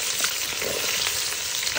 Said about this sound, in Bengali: এবার এটাকে ভাজা করে নিতে হবে